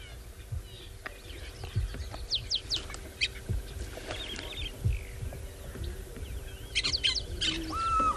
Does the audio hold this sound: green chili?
no